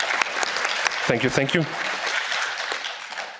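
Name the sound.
audience applause at European Parliament hearing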